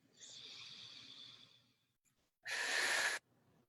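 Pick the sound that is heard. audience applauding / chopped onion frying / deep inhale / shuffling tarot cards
deep inhale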